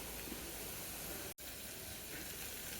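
Crushed garlic and a small piece of ginger fry in hot oil in a pan for a chicken curry, giving a steady, even sizzle with one brief cut partway through.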